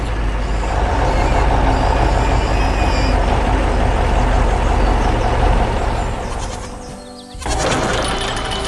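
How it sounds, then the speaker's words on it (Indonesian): A white cartoon truck rumbles steadily across hard, rocky farm ground, a loud continuous drone that dips briefly near the end before resuming. "Truk putih sedang melintasi medan yang keras."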